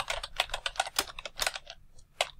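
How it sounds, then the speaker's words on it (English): Rapid keystrokes on a computer keyboard while a username is typed into a Git Bash command line, close and crisp in irregular bursts, ending with a final single key press. "Type in my name and I'll press enter."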